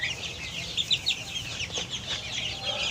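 Six-week-old chicks on a poultry farm chirp and cluck in a busy, overlapping chorus, moderately close and steady with no talk.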